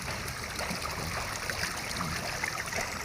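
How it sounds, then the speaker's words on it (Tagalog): A strong flow of clean water rushes over stones in a steady, dense, close wash with no pauses, the even roar and trickle continuing unchanged throughout. "Malakas yung daloy ng tubig guys."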